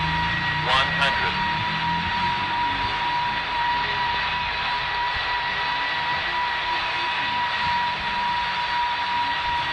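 A Boeing 757 jet on a cargo test flight taking off in a flight simulation, with a steady, loud whining engine drone throughout and someone talking over it.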